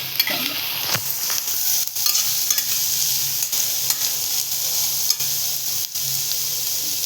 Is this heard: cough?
no